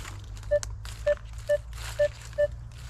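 Metal detector sweeping for targets outdoors in the woods gives five short, evenly spaced tonal beeps, fairly quiet, over a low steady hum, with no talking.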